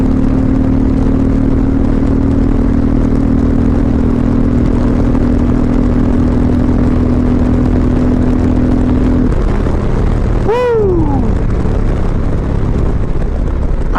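A 2021 Indian Challenger Limited motorcycle runs at full throttle with a steady, loud engine drone under heavy wind rush, and its tone sweeps sharply upward near the end.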